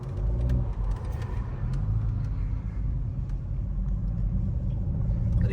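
A tuned BMW M340i cruising on the street, heard from inside the car as a steady, low engine rumble with road noise, loud and continuous, with no talking.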